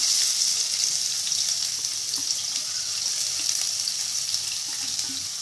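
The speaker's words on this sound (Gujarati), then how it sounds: "તેલ ગરમ થાય એટલે એક તજપત્તો ઉમેર અને જે ડુંગળી કાપીને રાખી છે એ ઉમેરી દઈએ" Chopped onion and a bay leaf fry in hot oil in a pan while making mixed vegetable curry, giving a steady, close hiss of sizzling with faint crackles and no talking.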